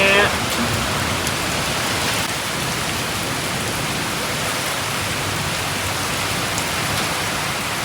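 Steady rain falling outdoors during a storm, a dense, even hiss of drops that stays close and constant from start to finish.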